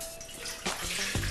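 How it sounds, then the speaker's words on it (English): Fresh coconut water from a small Thai coconut is poured through a screen strainer that catches bits of husk and shell, a steady close splashing trickle with a couple of louder gushes. "we pour it through a screen to catch any of the pieces of the husk or the shell"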